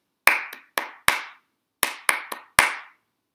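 A teacher claps a short rhythm pattern of seven sharp hand claps in uneven groups, close and loud, with nothing else around them.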